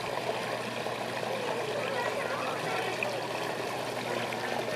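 Rain runoff water trickles steadily into a small pond at an environmental and heritage center, a continuous close-up gurgling flow heard alone, with no one speaking.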